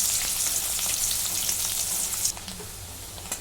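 A medium-sized onion roasts in a hot pan for a green brinjal dish, giving a continuous bright sizzle that drops slightly in level partway through, with no talking.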